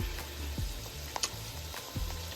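Boneless beef chuck short rib hash with peppers and onions cooks in its own juices, giving a steady close sizzle and frying hiss with occasional scraping stirs.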